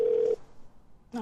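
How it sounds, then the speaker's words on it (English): An answering machine tone sounds before a message is recorded, as one steady electronic beep lasting about a third of a second. A brief quieter sound follows after a pause. "At the tone, please record your message."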